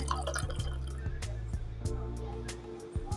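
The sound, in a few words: water poured into a cup of flowers for blue tea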